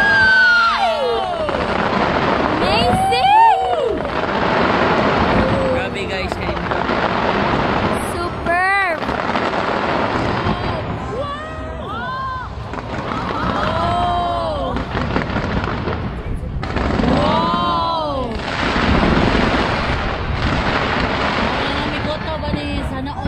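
Fireworks explode at a show in Taiwan in a long, loud, continuous barrage of booms, crackles and whistling rockets, with people talking and a crowd reacting throughout.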